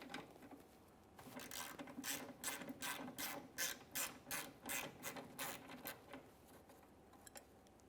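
A ratchet on a 12mm fitting turns out the brake hose mounting bolt on a 2008-2017 Mitsubishi Lancer, giving a close, moderately quiet series of rhythmic clicking strokes that slow and fade toward the end.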